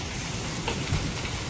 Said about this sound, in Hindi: हो गई है दोस्तों बारिश